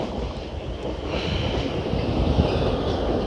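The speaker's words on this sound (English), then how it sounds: "there's my train coming up now, which is a Siemens" A Siemens passenger train pulls into Essendon Station with a steady, rising low rumble of wheels and motors. Wind buffets the microphone, and no one speaks.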